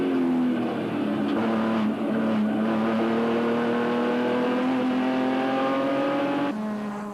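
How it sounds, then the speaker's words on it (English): Production race cars, including a Nissan 350Z and a BMW, race through the tight infield at Phakisa, engines loud and close with rising revs as they chase each other, steady roar throughout with a brief shift near the end. "Here he chases the Bosel Nissan 350Z of Richard Rutz and the Affinta Part BMW of Robert Wolk through the tight Phakisa infield"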